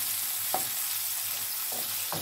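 Zucchini flowers frying in olive oil in a pan give a steady, close sizzle throughout, with a few brief stirring or spatter accents on top.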